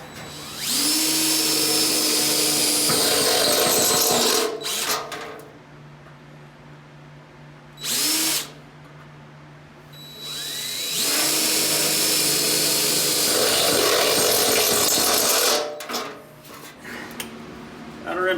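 A power drill whines through car body sheet metal drilling out spot welds on a 1967 Camaro, in several long bursts rising in pitch as it bites, separated by short pauses and one brief burst.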